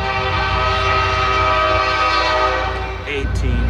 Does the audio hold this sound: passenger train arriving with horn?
yes